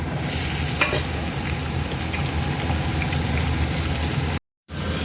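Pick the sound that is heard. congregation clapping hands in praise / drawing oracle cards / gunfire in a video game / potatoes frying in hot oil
potatoes frying in hot oil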